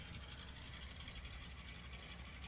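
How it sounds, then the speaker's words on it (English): A de Havilland Beaver's radial piston engine idles at a STOL competition in Sulphur Springs, Texas, a steady, rough, low throbbing drone that holds constant throughout with no talk. "That Beaver is super awesome. And it just idling sounds like a dragster."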